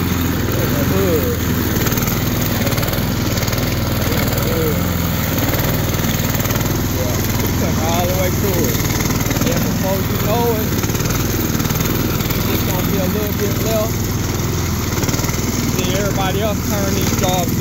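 A lawn mower cuts through a mountain of tall grass with its engine droning loudly and steadily throughout, with a constant roar and faint voices under the noise.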